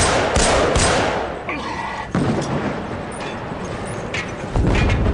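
Grenade blasts in the video game Killzone 3, a few heavy thuds and booms spread over several seconds amid loud, continuous battle noise, with a sharp burst near the end.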